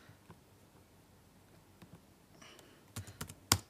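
Keystrokes on a Mac keyboard as a password is entered, a few soft taps early then a quick cluster of sharper, louder clicks near the end, close and alone in a quiet room.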